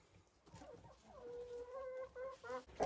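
Crested Dominant hens of a Czech line cluck and murmur softly nearby, a series of faint drawn-out calls and short clucks rising toward the end, no voices over them.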